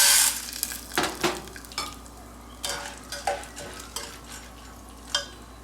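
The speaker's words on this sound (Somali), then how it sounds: "saliidana waa inoo karkartay daangadaana aan ku shubayaa" Beans fry in hot oil in a pot for cambuulo, with a soft sizzle under repeated sharp scrapes and clinks of a utensil stirring, close and irregular.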